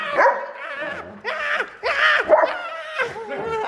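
An excited dog makes a run of raspy, wheezing yelps and whimpering barks in rapid bursts, close by and loud, during an emotional reunion.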